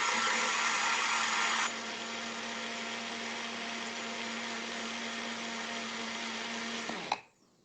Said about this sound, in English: I'm going to mix this real quick for about.